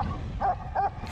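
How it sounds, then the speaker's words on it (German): Dogs barking at a traveller during a dog attack on a road trip through Romania, heard as three short, sharp yaps spaced through a faint outdoor background. "Und das war gerade mal die erste von insgesamt 5 Hundeattacken."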